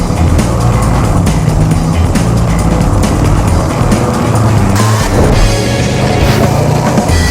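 A 2013 Jaguar XFR's 5.0-liter supercharged V8 roars loud and continuous under hard acceleration, with tire squeal and a sweep of passing noise partway through.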